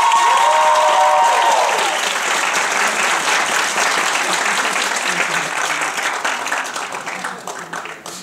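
A school theatre audience gives loud, sustained applause before a Spanish play, a dense wash of clapping that fades gradually, with a brief amplified tone at the start.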